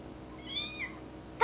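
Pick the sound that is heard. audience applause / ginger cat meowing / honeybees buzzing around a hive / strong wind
ginger cat meowing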